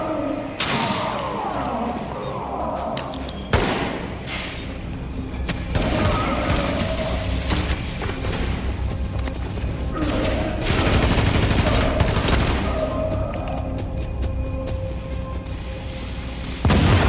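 Heavy gunfire shootout in The Division video game during a hard co-op mission in a subway morgue, with sustained bursts of automatic fire and booming blasts across the whole stretch, loud and dense throughout.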